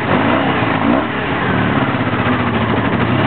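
A Honda Magna V65 motorcycle engine struggling through a very hard start, revving loud and continuous up close as the throttle is worked to keep it running, with a rough, uneven mid-pitched roar throughout.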